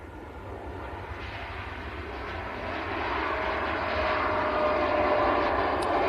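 An airplane departs Manchester Airport at sunset: a steady, broad engine roar that swells gradually louder and nearer across the whole stretch, heard alone without talk.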